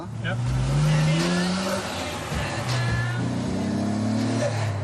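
A car's engine drones steadily from inside the cabin, a low rumbling hum with road noise rising and falling slightly, while people talk over it.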